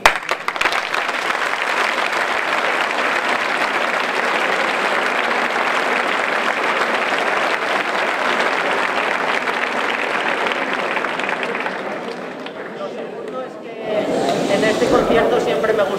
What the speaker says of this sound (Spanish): Dense un aplauso para vosotros mismos